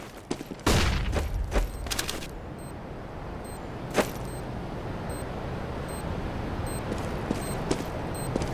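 A flashbang grenade going off in Counter-Strike during a competitive match, heard as a sharp burst early on followed by a ringing, sustained high tone and a later single crack, with scattered game sounds and no speech.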